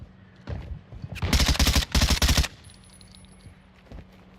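Gunfire in the Call of Duty DMZ game, two sustained automatic bursts with a few single shots before and after, loud against a quiet game background with no talking.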